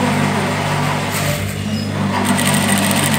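A sewing machine stitches a djellaba with a steady, close, continuous mechanical whir that carries loud and uninterrupted throughout, with no voices.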